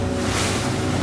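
Waves wash continuously over a fishing boat's splash screen at sea, a loud, dense rush of spray and water with wind buffeting close to the microphone throughout.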